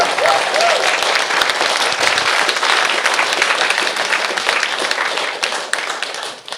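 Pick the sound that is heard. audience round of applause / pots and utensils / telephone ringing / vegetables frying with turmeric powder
audience round of applause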